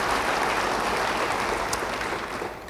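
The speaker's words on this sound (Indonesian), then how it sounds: "Yang mau beri tepuk tangan bagi dia." A church congregation applauding during a sermon, a broad wash of steady clapping from many hands at moderate distance that thins slightly toward the end.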